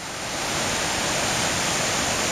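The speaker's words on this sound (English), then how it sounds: "Just watching the river rise." The rising Englishman River on Vancouver Island, British Columbia, rushing past close by as a steady, loud broadband roar of flowing water, with no voices.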